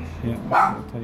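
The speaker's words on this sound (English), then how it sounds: "my dogs are getting all irritated right now" A dog gives a short bark amid other dogs' yips, brief and fairly close, heard over someone speaking.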